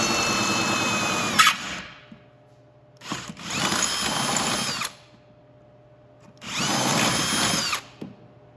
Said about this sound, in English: we'll move on to the front and drill in the brackets